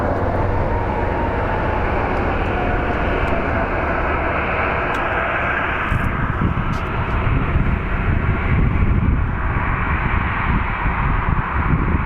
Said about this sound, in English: So let's watch this plane as it pulls up